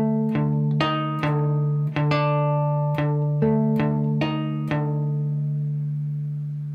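Cigar box guitar playing classical, Spanish-flavoured minor-key chord picking: a held low drone under a slow sequence of plucked, ringing notes, close and solo without talk.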